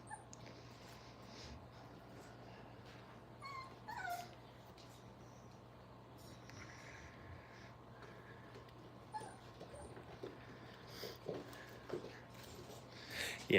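Small puppies at a dog kennel give faint, intermittent whimpers and yips, with a short cluster of high cries partway through, over a quiet room hum.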